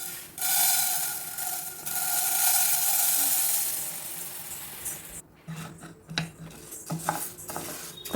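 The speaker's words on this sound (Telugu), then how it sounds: "ఇప్పుడు ఉలవల్ని వేపుకోవాలి" Horse gram dry-roasting in a pan while being stirred, a steady hiss for several seconds, then scattered scraping and clinking of the spoon against the pan.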